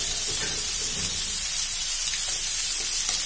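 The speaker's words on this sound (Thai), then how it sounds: "จะผัดสักพักหนึ่งนะคะ" Spicy clown featherback fish balls are stir-fried in a pan, giving a loud, steady, hissing sizzle that stays close and continuous with faint stirring knocks underneath.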